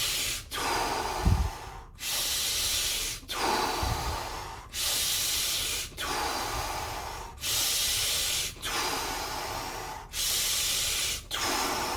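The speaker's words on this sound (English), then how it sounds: "Keep controlling your breath." Slow, controlled deep breaths during a guided energy meditation, each long airy inhale and exhale repeating steadily about every one to two seconds, close and clear with no talking.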